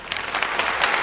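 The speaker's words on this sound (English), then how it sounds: "more applause." A brief, dense burst of audience applause on a podcast episode, a steady wash of many hands clapping, fairly loud and alone without talk.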